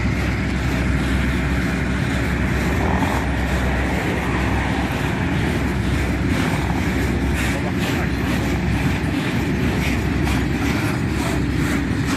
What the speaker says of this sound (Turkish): Kara tren geçiyor gene.